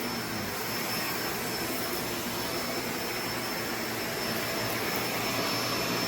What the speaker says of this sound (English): I'm going to have to show you how easily that vacuums up